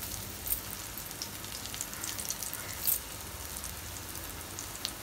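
An aloo fish snack sizzles in hot oil in a pan, giving a steady, faint hiss with a few soft pops scattered through it.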